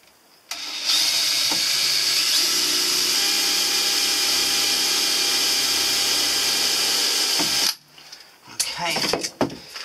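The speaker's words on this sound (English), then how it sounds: "I'm going to drill a pilot hole." A power drill with a 2mm bit bores a pilot hole while wall cladding is fitted in a camper van conversion, giving a loud, steady whine of roughly seven seconds that stops abruptly, followed by a few clunks and handling noises.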